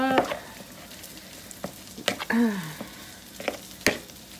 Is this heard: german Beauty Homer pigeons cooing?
no